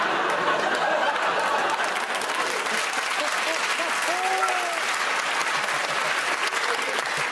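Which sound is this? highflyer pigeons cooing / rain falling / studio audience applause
studio audience applause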